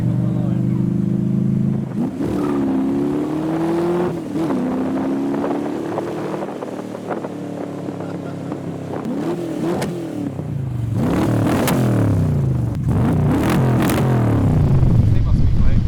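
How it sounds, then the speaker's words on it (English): A replica Cobra launches off the line with a clutch kick at a modified car show. The loud engine surges and climbs through several gear changes amid wind buffeting, with occasional talk. "Little clutch kick off the line."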